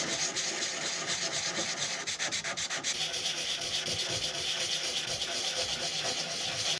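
A small hand sanding block scrubs over car body filler on a door panel, making continuous close, rasping strokes with a brief stretch of quicker back-and-forth rubbing.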